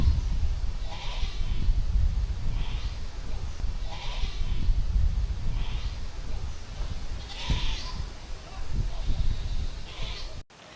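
Goats bleat repeatedly at close range, several loud wavering calls spaced every second or two over rustling and breathy movement noise, with a person's voice mixed in.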